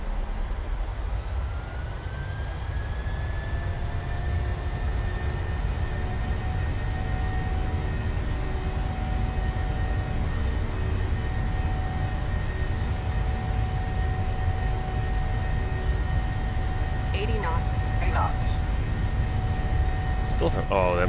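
Boeing 737 jet engines spooling up to takeoff thrust in Microsoft Flight Simulator, a loud steady roar with rising whine that swells and holds throughout, a voice briefly talking over it.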